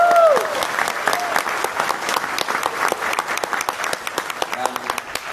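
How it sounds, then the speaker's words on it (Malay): An audience at a QNET leadership event gives steady, crisp applause, many hands clapping at close range with a brief voice at the start and claps gradually thinning toward the end. "berikan tepukan kepada teman saya yang luar biasa"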